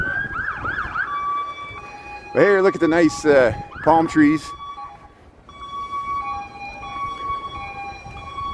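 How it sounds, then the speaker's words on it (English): Wailing sirens rise and fall, with a louder burst of overlapping wails in the middle; a person talks over them. "I'm not in Chicago and I still got sirens"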